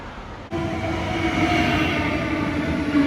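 Train pulling into a station on a Swiss trip, a sudden steady rumble and hum of rolling railcars starting abruptly and holding loud and close throughout.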